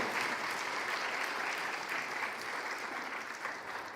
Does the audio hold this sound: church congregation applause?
yes